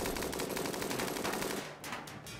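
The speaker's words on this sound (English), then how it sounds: "take a look at the walls as the bullets hit them" Continuous rapid gunfire in the game Rimworld, with bullets striking walls as a loud, dense rattle of shots that eases off near the end.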